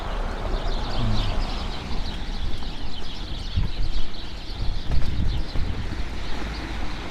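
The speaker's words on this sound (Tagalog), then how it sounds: "Daming ibon," Dense, continuous chatter of many birds calling at once, a busy noisy wash of chirps with no clear pauses.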